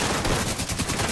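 Rapid automatic gunfire in a video game, a dense burst of closely spaced shots rattling loudly for the whole short moment.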